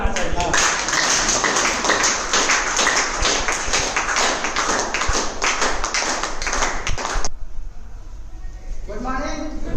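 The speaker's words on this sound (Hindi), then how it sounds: "उनके नाम से एक बार जोरदार ताली होना चाहिए" A large training-session audience breaks into loud, dense applause, a steady wash of claps that cuts off sharply near the end before a voice begins speaking.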